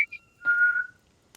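A short whistled tone, bright and clear, rising briefly before one sustained whistle note of about half a second, followed by a faint click at the end; no talking.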